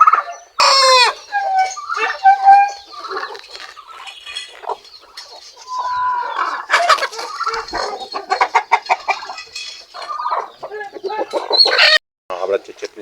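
A flock of backyard farm chickens clucks and squawks close by while a rooster crows loudly several times, busy and overlapping throughout.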